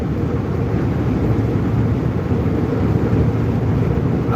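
A Kenworth W900 truck with an 18-speed transmission and a 600-horsepower Cummins engine drives along, giving a steady, loud, low rumbling drone throughout.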